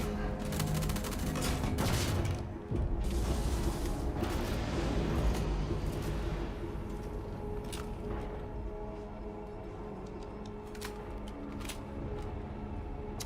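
Rapid gunfire aimed at a bomb in the space game Star Citizen, a dense stream of shots that is loudest early and then trails off into a steady mechanical background hum.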